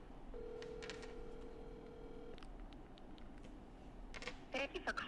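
A steady electronic phone ring tone holds for about two seconds, then gives way to faint clicks and soft handling noise.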